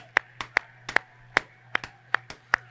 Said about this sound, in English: please don't clap so close to your microphone